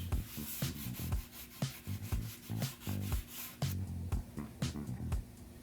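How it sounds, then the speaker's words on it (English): Hand sanding of a GT Rebound mountain bike frame between coats of white paint, a quiet, rhythmic back-and-forth rasp in short repeated strokes, close and alone without any talk. "It did require lots of sanding between coats."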